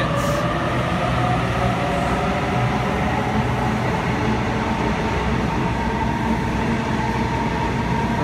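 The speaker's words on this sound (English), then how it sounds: "A61 now departing" A Sydney Trains A set departs Wynyard station underground, a steady loud rumble of the train rolling out with a sustained motor whine, constant and unbroken throughout.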